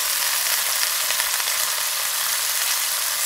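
Tenderloin fillet, bacon and carrot pieces sizzle in a hot pan, a loud, even, continuous frying hiss with no talking over it.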